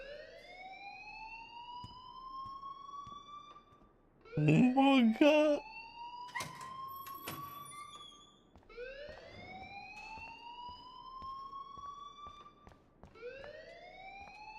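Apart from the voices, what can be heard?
alarm ringing in a video game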